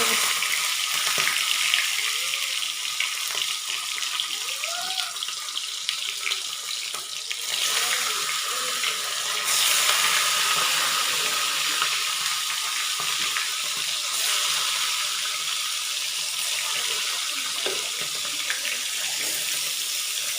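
Meat goes into hot oil and fries for a biryani, a loud, close, continuous sizzle and crackle with small stirring sounds and no talk.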